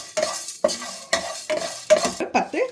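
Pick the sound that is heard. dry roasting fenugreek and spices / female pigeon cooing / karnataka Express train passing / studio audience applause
dry roasting fenugreek and spices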